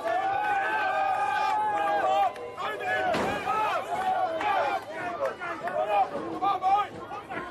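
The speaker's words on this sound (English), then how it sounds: "The crowd is shouting Ab on." The crowd at a 1988 World Strongman competition shouts and cheers in encouragement, a loud, continuous mass of voices with individual yells rising above the roar.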